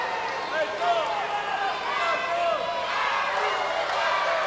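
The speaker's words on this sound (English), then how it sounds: "the crowd roars in approval of the actions of Larry Beach Boy Winters" A crowd at a 1991 NWF wrestling event roars continuously in the arena, a dense steady wash of cheering voices mixed with a commentator's constant talk.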